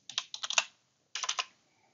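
Typing on a computer keyboard: two quick bursts of crisp, close key clicks, several rapid strokes each, separated by a brief silence, with no speech.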